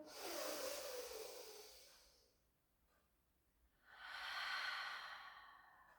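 Deep breathing during a Pilates stretch, a long airy breath followed by a pause and a second long breath, both close and soft with no talking.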